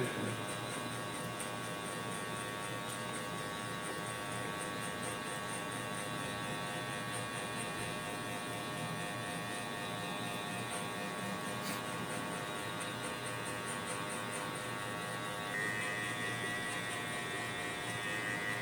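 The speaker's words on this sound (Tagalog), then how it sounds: "kung paano i-adjust yung clipper natin para pantay po ang pagkaputol ng buhok" Electric hair clipper buzzing steadily through a low-cut haircut at a barber, a constant close motor hum with faint changes in tone as it moves through hair, no speech.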